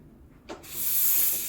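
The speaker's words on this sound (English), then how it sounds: "So I'm going to purge it before just to get the hot water out from the steam wand." A brief click, then a sudden loud, steady hiss of steam blasting out of the steam wand of a Breville Dual Boiler BES900 espresso machine as it purges, continuing.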